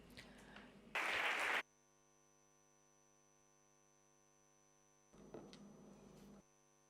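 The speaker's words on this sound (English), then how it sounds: "A round of applause for María López." Conference audience applauding to welcome a speaker at the sixth DEC congress: a short loud burst of clapping, then a longer, softer round a few seconds later, with a steady electrical hum in the quiet gap between.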